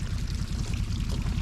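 Irrigation water from a center pivot pours and runs steadily into field rows, a continuous close, low rushing flow with no talking.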